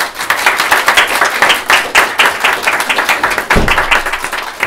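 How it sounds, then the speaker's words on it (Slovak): Audience applause welcomes a speaker to the stage at a conference, a dense, loud, continuous patter of many hands clapping throughout. "A teraz ju privítajte prosím vás potleskom."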